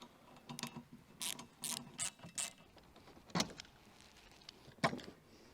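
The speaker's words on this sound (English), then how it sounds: "with a 13mm socket we're going to remove these wiper arms" Ratchet with a 13mm socket turning the nuts on MINI Cooper wiper arms, giving several short bursts of clicking close up with brief pauses and two sharper knocks near the end.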